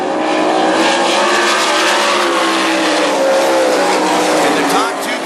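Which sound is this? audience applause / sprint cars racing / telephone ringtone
sprint cars racing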